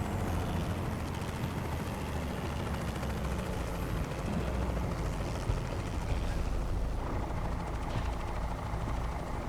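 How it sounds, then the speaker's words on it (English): A truck engine in American Truck Simulator lugs at low revs, giving a continuous heavy drone with a deep strained rumble that stays steady and loud for the whole stretch, with no voices on top. "that's lugging the engine"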